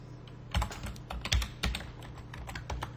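Typing on a computer keyboard: a handful of close, sharp key clicks land in an uneven rhythm over a quiet background, with no voices.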